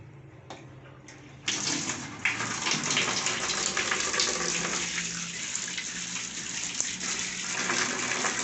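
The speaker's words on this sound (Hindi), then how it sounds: "और टूटी चलाते हैं जी।" Water gushing from a tap into a bucket holding a small amount of detergent powder, starting in brief spurts then running steadily and close, a loud continuous splashing stream.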